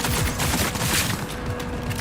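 Rapid gunfire from a player's gun in the video game Wuthering Waves, a dense burst of shots going on steadily for the whole stretch, loud and close.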